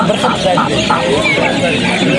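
Chickens cluck close by while people talk over them.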